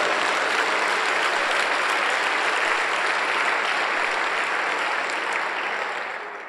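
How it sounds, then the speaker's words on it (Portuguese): A congregation at a pastors' breakfast gathering in a church applauds in a dense, steady wash of clapping that holds loud and unbroken for several seconds before easing off at the end. "Pode dar um aplauso a Jesus."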